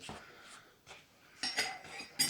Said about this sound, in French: vous commencez à mélanger plutôt avec une fourchette au début parce que vous pouvez avoir les doigts pleins d'huile